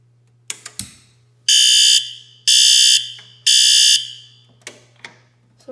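Fire alarm system sounding after a pull station is activated: three loud, steady electronic beeps about a second and a half each, evenly spaced, with clicks and handling noise between them over a low steady hum, no talking.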